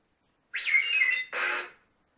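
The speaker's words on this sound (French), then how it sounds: "c'est une fonction d'alarme" The R2-D2 interactive astromech droid toy gives off its home guard alarm as two quick, bright electronic warbling bursts, the first sweeping and chirping, the second a steadier buzz, loud and close against silence.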